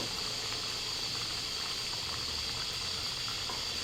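A pot of garlic pepper gravy boils on a gas stove, giving a steady close bubbling hiss with a faint low rumble underneath. It stays even and continuous from start to end.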